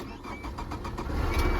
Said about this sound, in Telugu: ఇప్పుడైతే నేను ఇంజన్ అయితే స్టార్ట్ చేస్తున్నా